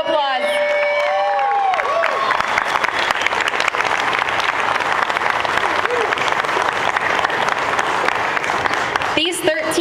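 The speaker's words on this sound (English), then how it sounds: "Give him a round of applause." Loud, sustained applause and clapping from an audience at a swimsuit pageant preliminary, with some cheering and whoops, continuing steadily for about ten seconds after a few brief tones at the start.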